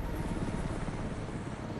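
A large aircraft in the Dead Rising 3 video game roars overhead, a dense, steady engine rumble and wash that fills the scene loudly and continuously without voices.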